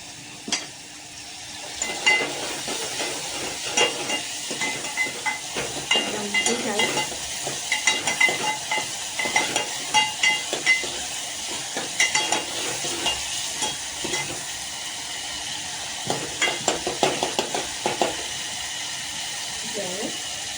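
Tempering of hot oil with red chilli for dal sizzles and fries in a pan, a steady hiss with stirring scrapes and clinks, while someone talks over it.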